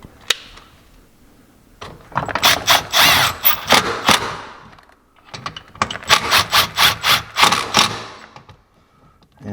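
Ratchet clicking in short rhythmic bursts while tightening the grab handle bolts on a Can-Am Maverick X3, two clear rounds of close, crisp mechanical ticks separated by a brief pause.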